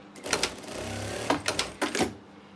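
A sewing machine stitches a quilt block in short, close, rapid bursts of whirring, with pauses between them. There is no talking.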